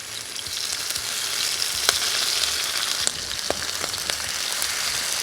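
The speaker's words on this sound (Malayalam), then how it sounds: "ഇനി ഓരോ ചെമ്മീനും നമുക്കിതിനെ ഗ്രില്ല് ചെയ്തെടുക്കാം. ഷാലോ ഫ്രൈ ആയിട്ടാണ് നമ്മളിത് എടുക്കുന്നത്." Prawns shallow fry in hot oil with curry leaves, a dense, even sizzle close by with scattered pops and crackles throughout.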